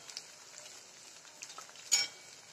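Sago pearls fry in oil over a low gas flame with a faint, soft sizzle, then a short louder clatter near the end.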